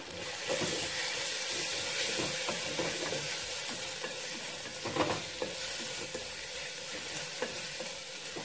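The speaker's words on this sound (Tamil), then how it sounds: "கொஞ்சோண்டு மஞ்சள் தூள் ரெண்டையும் போட்டு நல்லா ஒரு பிரட்டி பரட்டி விட்டலாம்" Spices with asafoetida and turmeric fry in a pan under a continuous loud sizzle, punctuated by scattered scrapes and knocks as they are stirred and tossed.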